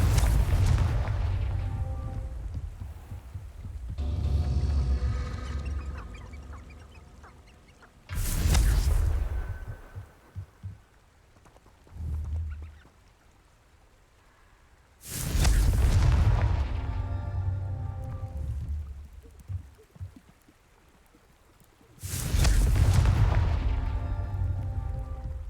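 The Confringo fire spell goes off repeatedly in the Hogwarts Legacy video game, making heavy booming explosions with rumbling tails. Four main blasts come several seconds apart, with smaller crackles between them.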